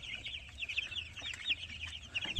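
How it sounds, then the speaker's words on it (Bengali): Tiger breed chickens from Kazi company stock cluck and chirp softly and continuously at a moderate distance, a steady overlapping chatter of several birds with no voices. "এর জন্য আলহামদুলিল্লাহ মুরগিগুলো এখন একটু ভালোই আছে"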